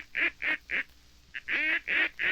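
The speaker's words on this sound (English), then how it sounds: "Geese in the west. Down. They're Canadians from the ranch range." Canada geese honking in a series of loud, clear calls, about seven nasal honks in two bursts with a short pause between, close and without any speech.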